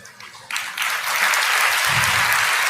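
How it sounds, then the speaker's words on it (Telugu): An audience at a Christian talk on Hindu scriptures breaks into applause that starts thin and swells within a second into a full, sustained roar of clapping from a large crowd. "మీరెందుకు చప్పట్లు కొట్టారు?"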